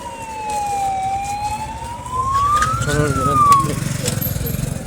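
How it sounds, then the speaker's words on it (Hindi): An ambulance siren wails, sweeping up and down as it passes close by, loud over road traffic noise, with voices faintly in the background. "एम्बुलेंस जा रहल छै"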